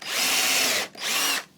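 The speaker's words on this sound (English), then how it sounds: "then you drill a small hole in the bottom bit" A power drill bores a small pilot hole into a wooden piece, two close whining bursts of steady high-pitched drilling separated by a brief pause, with no talking.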